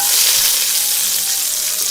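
Peppers dropped into hot olive oil for a Giambotta with sweet Italian sausage, giving a loud, steady sizzle and crackle of frying that runs unbroken throughout, close by with no talking.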